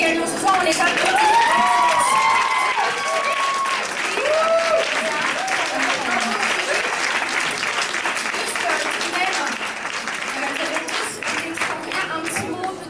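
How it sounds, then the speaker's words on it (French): A studio audience applauds at a beauty makeup competition final in Paris, a dense wash of clapping that starts loud with cheers and voices mixed in, then slowly eases while staying steady for the rest. "on les applaudit"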